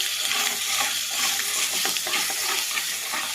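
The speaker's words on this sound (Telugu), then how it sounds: "ఆవాలు మొత్తం అయితే బాగా ఫ్రై చేసేసుకున్నాము" Mustard seeds fry in hot oil in a pan while being stirred, giving a dense continuous sizzle and crackle with small scraping stirs, fairly loud and steady with no talk.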